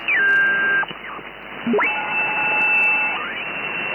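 Radio signals picked up on an RTL-SDR software defined radio: steady electronic tones and sweeping whistles, loud and close, with an abrupt break before another tone glides up and holds, then slides away.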